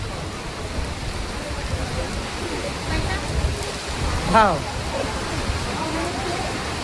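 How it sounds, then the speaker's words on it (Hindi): Steady rain pours over an open-air vegetable market selling tomatoes, a broad even hiss that fills the whole stretch, with a brief spoken word and a passing bird-like chirp midway. "आधा बाजार में पानी चालू हो गया"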